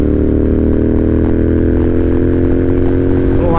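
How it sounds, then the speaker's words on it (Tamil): A Ducati Panigale V4 superbike engine runs loud and steady close by, a continuous deep rumble with a dense harmonic drone that holds even for the whole stretch without clear revving. "வண்டி சவுண்டு தாங்க பயங்கரமாக இருக்குது"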